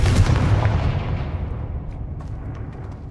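An explosion from the Confringo blasting spell in the Hogwarts Legacy video game: one loud, booming burst at the start, followed by a long rumbling decay that fades away over a few seconds.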